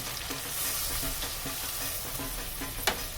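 Coconut milk goes into a hot pan for a Durga Puja Saptami dish, giving a steady close sizzle with soft scraping stirs throughout and a brief sharper clink near the end, no talk.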